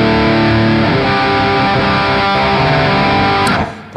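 A 1976 Ibanez Les Paul electric guitar with Duncan Distortion pickups rings out with loud, sustained distorted chords that hold steadily before cutting off near the end.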